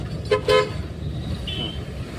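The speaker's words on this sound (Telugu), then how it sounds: "వెనకాల వెహికల్ వస్తుంది అది పర్లే ఆడు హార్న్ కొడుతుంటే" Two short toots from the horn of a vehicle behind, on a traffic road with a school van and a lorry ahead, close and fairly loud over a low hum of road and engine noise.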